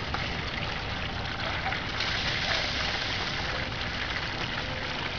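An 1100 gallon per hour bilge pump pushes a steady stream of water through a bucket sluice box, a continuous trickling, splashing rush at even loudness with no talk.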